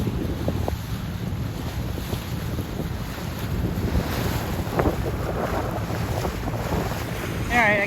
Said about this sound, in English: lots of turbulence in the water here. It's just super choppy with all kinds of currents going every which way here.